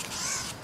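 A blue jay imitates a hawk call, a single harsh, raspy scream lasting under a second, loud and close with no other sound around it.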